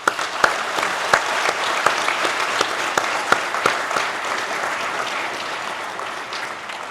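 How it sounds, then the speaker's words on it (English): Warm applause from the audience at a fire academy graduation for the recruits' families, an even wash of clapping with a few louder, closer claps standing out near the start and a gentle fade at the end. "A round of applause for the families."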